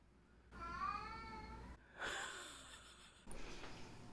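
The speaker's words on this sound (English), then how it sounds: "Can you guys hear my cat losing his mind right now?" A male pet cat meowing loudly indoors in three drawn-out, wailing calls with rising and falling pitch, separated by short breathy pauses.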